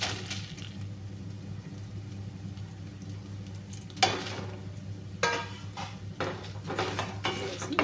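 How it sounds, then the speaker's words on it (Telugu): Coriander seeds and dried red chillies frying in a pan, a soft continuous sizzle with occasional scraping stir strokes and light clinks, close by. "బాగా ఫ్రై చేసుకోండి."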